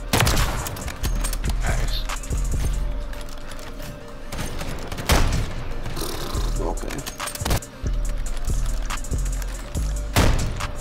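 Game gunfire from Modern Warfare 3 trickshotting: dense bursts of shots and sharp cracks run throughout, loud and busy, with several louder impacts, under excited talk.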